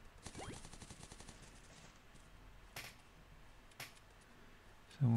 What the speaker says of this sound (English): Someone was shooting down here, I think.